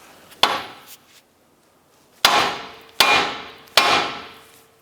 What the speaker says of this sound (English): I'm going to strike the knuckle with a hammer, and that should jar the tie rod end loose.